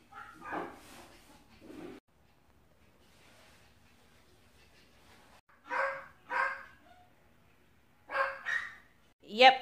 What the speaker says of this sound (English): that is my dog barking in the back